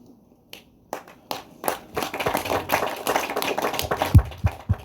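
A wife claps at a book launch for a cancer survivor's book: a few sharp, separate claps at first, then quickly thickening into steady, fairly loud clapping close by.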